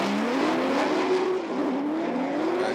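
Race cars at a 2020 professional drift competition, with a loud sustained engine roar whose pitch wavers up and down as the throttle is worked through the slide, heard without commentary.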